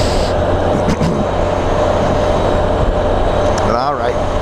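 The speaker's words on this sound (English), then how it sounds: "the trains over on the Washington side going along down those tracks" A steady, loud rumble of a train rolling along the tracks, continuous throughout with faint rattling, and a brief voice near the end.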